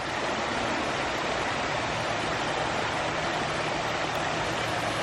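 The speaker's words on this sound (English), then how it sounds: "Beautiful waterfall." Waterfall in a botanical garden, a steady, dense roar of falling water that fills the whole clip at an even level, with no voices heard.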